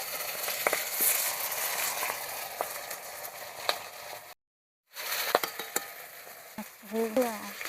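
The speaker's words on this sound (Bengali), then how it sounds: "আমি এটা ভালো করে ভেজে নেব, লবণ হলুদ মাছ নিয়ে ভেজে নেব" A rohu fish head coated in salt and turmeric fries in hot oil, sizzling and crackling steadily with sharp spits, a brief silent gap, then more popping and a short spoken remark.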